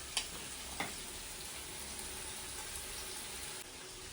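Onions fry in hot ghee for chicken biriyani, a faint, steady sizzling hiss broken by a couple of small clinks near the start.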